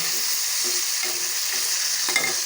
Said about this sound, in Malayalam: ഇതാ കുറച്ച് സോയാബീൻ ഉണ്ട് അതൊന്ന് പൊരിക്കാൻ വേണ്ടിയിരിക്കുകയാണ്